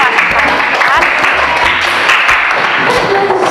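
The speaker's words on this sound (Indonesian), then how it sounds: "Tepuk tangan dong untuk anak-anak kelas." A classroom of children claps loudly and close at hand, a dense, continuous patter of many small hands with scattered voices mixed in throughout.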